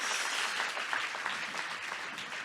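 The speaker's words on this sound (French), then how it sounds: "Vous pouvez les applaudir." An audience applauds panelists at a film festival forum in Geneva, a dense, steady wash of clapping that fills the whole moment without voices.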